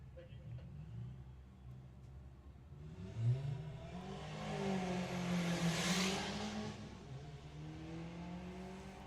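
An Audi TT launches hard off the line at a Bug Jam drag race, its engine climbing in a loud rising rev sweep. Crowd noise and a commentator's voice sit over the roar.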